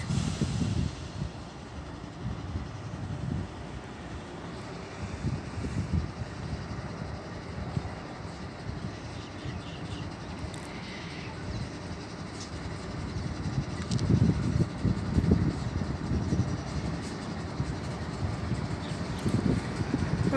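Freight train with front and rear locomotives rolling past a bridge, a steady broad rumble of wagons and wheels running throughout, swelling slightly louder in the last seconds, with no talk.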